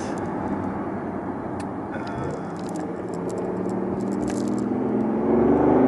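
A BMW i8 in sport mode gives a steady, fairly loud engine drone from inside the car. The hum thickens and swells toward the end, with light rattles over it.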